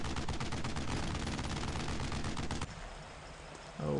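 Rapid machine-gun and rifle fire rattles continuously in the World War II video game Brothers in Arms: Road to Hill 30, loud and dense, then drops to a lower rumble before a sharp new burst at the end.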